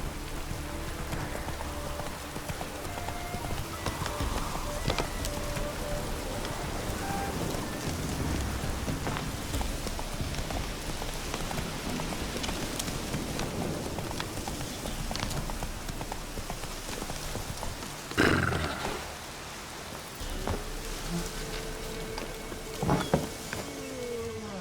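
Rain falling in The Witcher 3 video game, a steady patter on surfaces, with rhythmic horse hooves clip-clopping beneath it and a couple of brief louder knocks near the end.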